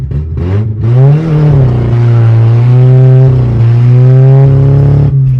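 A junkyard Nissan car's engine revs hard and holds a high droning pitch up close, rising and dipping slightly as it is pushed through an attempted drift.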